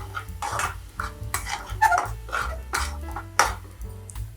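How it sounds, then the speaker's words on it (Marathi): Cardamom powder being stirred into bottle gourd halwa in a pot, a steady run of close metal spoon scrapes and clinks against the pan with a few sharper pings, no voices. "आता आपण ह्याच्यामध्ये वेलची पूड घालणार आहोत। वेलची पूड पण छान मिक्स करून घ्या।"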